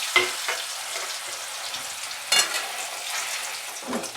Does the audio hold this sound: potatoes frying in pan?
yes